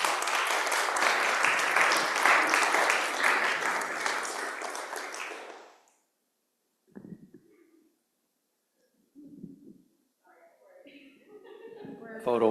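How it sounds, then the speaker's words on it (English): A big round of applause at a Sunday school gathering fills the first half, dense and steady, then cuts off abruptly, followed by silence broken by a few faint thumps and murmured voices. "Let's give her a big round of applause"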